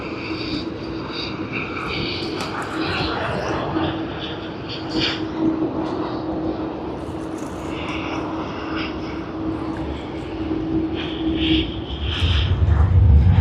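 A heavy jet airliner departs Sydney Airport, its engine roar a steady broad rumble with a low hum, building louder toward the end as the aircraft nears.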